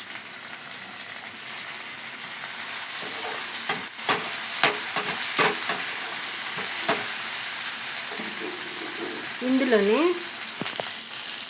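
Tomatoes sizzle and fry in a pan for a Telugu-style evening snack, with scraping stirs and utensil taps; someone speaks briefly over the steady sizzle.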